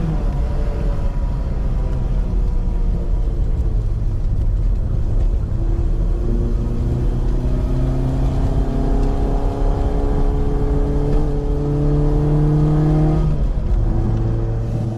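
Autobianchi A112 small car driving through S-bends, its engine loud and close with a continuous rumble, revs rising and falling through gear changes over the whole stretch.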